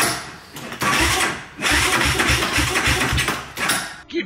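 Motorcycle fitted with a CRF 230 kit being kicked over, a rapid series of low thumping engine pulses that sputter and fail to catch, close by and loud.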